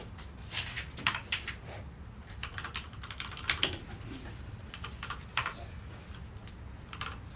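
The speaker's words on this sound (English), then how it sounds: "A lot of typing. What's happening over there?" Rapid, irregular tapping on a computer keyboard, bursts of clacky keystrokes at close range over a low background hum, with no voices.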